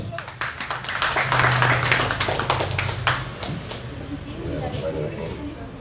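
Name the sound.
audience applause for the speaker Babe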